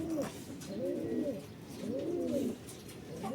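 A racing pigeon, just back from a 411 km race from Matnog, Sorsogon, coos nearby in two soft, rolling bursts, each close and fairly quiet, separated by a short pause.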